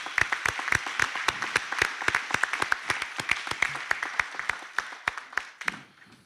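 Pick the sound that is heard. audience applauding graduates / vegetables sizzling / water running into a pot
audience applauding graduates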